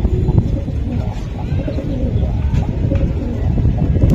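Jira giribaz pigeons coo softly and continuously over a low rumbling background, with a steady murmuring texture and no speech.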